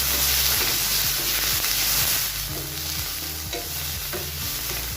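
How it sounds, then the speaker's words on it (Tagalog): Chicken breast stir-fried in a hot pan, loud continuous sizzle with rhythmic scraping strokes of the spatula repeating about twice a second, no voices. "Sutay lang natin guys hanggang sa maweldan ang ating chicken breast."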